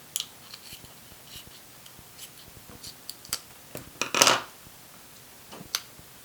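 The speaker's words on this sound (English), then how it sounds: "we're going to take these little surgical scissors. We're going to go ahead and cut this off" Small surgical scissors snip plastic off a Yuneec Typhoon H drone antenna, a few faint, sparse clicks and sharp snips close up, with one louder burst of cutting midway and a quiet room around them.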